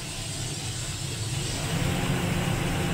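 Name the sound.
combine harvester engine revving up to full throttle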